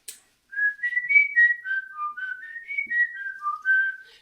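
A single person whistles through pursed lips, the lip shape used in a trombone embouchure lesson, producing a clear, close, wavering melodic line of several connected notes with no one talking over it.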